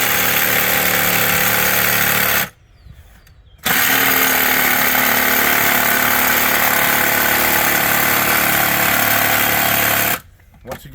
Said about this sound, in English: Now, the way we get this other part, you got to have a jigsaw.